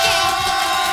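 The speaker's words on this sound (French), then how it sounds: "Regarde, on t'applaudit bien fort," A radio studio audience cheers a caller in a brief, loud burst of massed voices shouting and whooping together, a sustained crowd roar lasting about a second.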